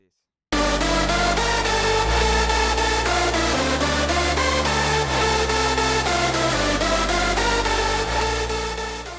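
A layered, warm synth lead from a dual damage lead template sounds loud and sustained, bright and dense chords shifting in a steady rhythm over a deep bass line, with no voices, fading slightly at the end.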